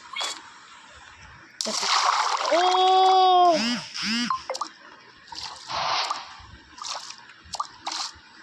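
Water splashing and sloshing in the video game Minecraft, a few wet splashes and drips starting near the middle, mixed with tonal game sounds and brief bursts of other noises at a moderate level.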